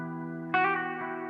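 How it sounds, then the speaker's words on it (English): Collings LC electric guitar in a clean tone with light reverb: a sustained chord rings out, then a second strum lands around the midpoint and decays with a soft reverb tail, close and alone with no talk. "I'm going to be using my Collings LC, and just to give you a sound, this is my clean tone."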